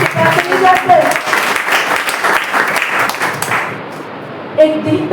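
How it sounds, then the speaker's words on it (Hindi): A church congregation breaks into applause during a sermon, a loud wash of clapping that fades out after a few seconds, followed by a brief sound at the end. "इसके लिए आपको ताली बजाना चाहिए।"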